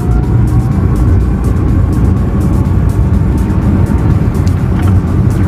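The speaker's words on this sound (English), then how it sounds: "One of the striking things about driving the Rimac is the sound." A Rimac Nevera electric hypercar drives with a loud, continuous motor and road roar that holds steady throughout, with no voices over it.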